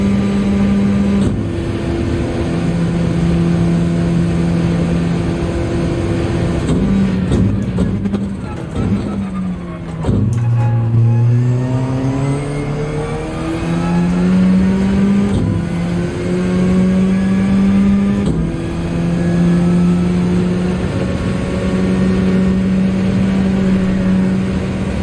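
Race car engine in Gran Turismo 7, a Gr.3 machine at Interlagos, droning steadily with pitch rising and falling through gear changes and braking, loud and continuous with a voice talking over it.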